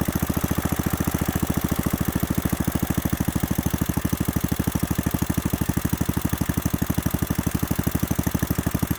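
A freshly rebuilt Kohler K91 engine idles nearby, with a steady, fast, regular chugging beat that holds constant for several seconds. No voices are heard.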